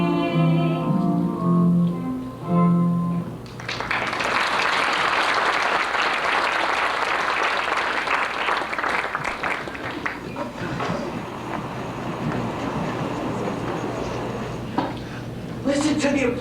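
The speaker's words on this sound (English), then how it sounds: "Listen to the applause." At a junior high school Broadway-style musical, singing ends and a large audience bursts into loud, sustained applause that carries on for over ten seconds before tapering, with a voice briefly heard near the end.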